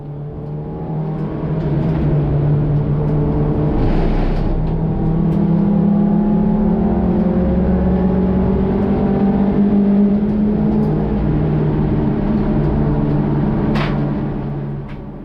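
A race car engine pulls hard in fourth gear during a race start, a sustained loud close roar with rising and falling revs that continues steadily throughout without any voices.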